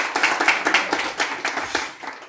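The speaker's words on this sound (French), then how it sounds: "Applaudissez pour elle." Outdoor crowd claps for the first lady at a chief's installation ceremony in a Gabonese village, a steady patter of many hands with rhythmic accents, fairly close and sustained throughout.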